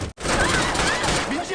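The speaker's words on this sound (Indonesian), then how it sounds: "memberondong tembakan yang ternyata cuma berisi peluru kosong" Burst of blank-round gunfire in a Korean action film, a dense rapid volley of loud cracks filling the short span after a brief gap at the start.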